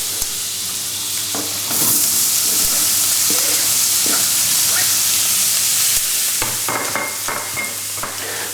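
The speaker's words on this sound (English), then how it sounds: "Now I'm going to go in with the onions." Onions hit a hot pan over medium heat and sizzle loudly up close, a steady frying hiss with scattered spatters and occasional stirring knocks.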